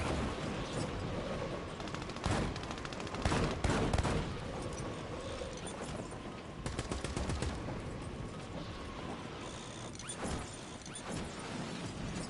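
Gunfire in Warzone, rapid automatic bursts and scattered shots crackling close and loud over constant battle ambience, with several dense volleys.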